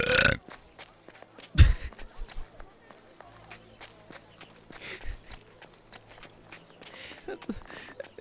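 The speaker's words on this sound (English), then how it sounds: "Imagine someone drive by burping at you." A person lets out a loud, low burp near the start, followed by lighter scuffling and faint background noise with scattered clicks and thuds.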